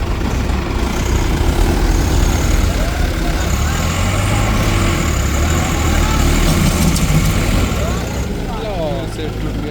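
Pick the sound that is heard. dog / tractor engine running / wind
tractor engine running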